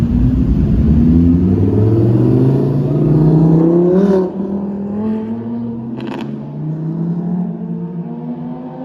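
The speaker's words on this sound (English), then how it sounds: "We saw the 430 Scoot roll by. Obviously it sounds incredible" A Ferrari 430 Scuderia's loud engine growls nearby at a supercar show, its pitch rising and falling as the car rolls past, then fades into a lower steady rumble.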